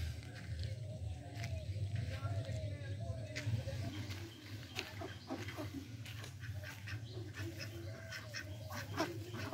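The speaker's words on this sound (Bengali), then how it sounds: "দেখো হাঁসের দল একদম এক্ষুনি সামনে যেয়ে দিয়ে সবকটা জলে নিয়ে পড়বে।" A flock of village ducks near water quacks in scattered bursts across a quiet rural morning, faint and somewhat distant, with other farm sounds and people talking softly in the background.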